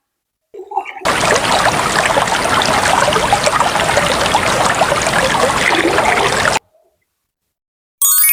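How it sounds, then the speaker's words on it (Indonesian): Water pours steadily from a tap for hand washing, a loud continuous splashing rush that starts abruptly and stops just as suddenly after several seconds. "Mencuci tangan dengan air mengalir dan sabun."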